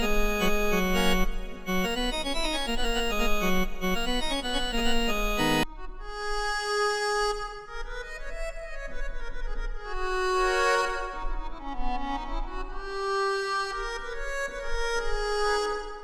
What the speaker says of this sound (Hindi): ऑर्गन पे क्लिक करिए, बहुत सारे ऑर्गन के साउंड मिल जाएंगे।